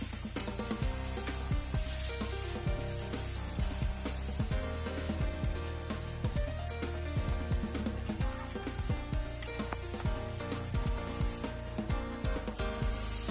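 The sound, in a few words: water added to sizzling fried masala for fish korma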